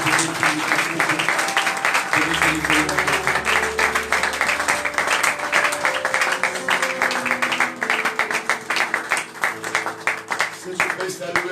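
A church congregation applauds and cheers the Lord, with sustained clapping and crowd voices, loud and continuous, with music or a voice running underneath.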